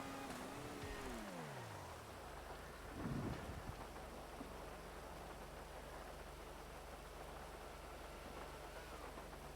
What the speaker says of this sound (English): Damn, this rain, dude.